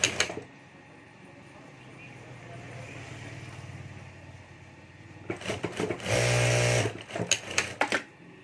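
A sewing machine stitches a fabric bag handle strap in a short, loud burst of rapid motor whirring near the end, after a stretch of quieter room noise and rustling.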